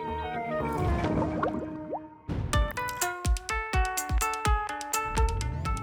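Bubbling in an aeration tank at a water treatment plant: rapid close plops and bursting bubbles give way to a rhythmic series of distinct, resonant gulps and drips, with no speech.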